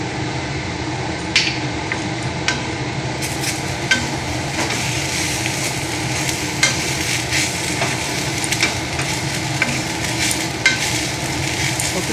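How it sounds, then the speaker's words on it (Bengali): Bread pulao is stirred in a pan on the stove, with a steady sizzle under scattered scraping clicks of the spoon against the pan, close and continuous with no talk. "আর একটু নাড়াচাড়া করে নিই, তাহলে হয়ে যাবে যে ব্রেড পোলাও"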